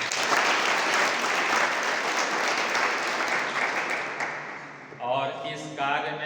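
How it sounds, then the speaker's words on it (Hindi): Audience applause at a felicitation gathering honouring three locomotive pilots, a dense sustained clapping from a sizeable crowd that thins out near the end as a voice begins speaking over it. "बधाई है, तालियां एक बार हो जाए।"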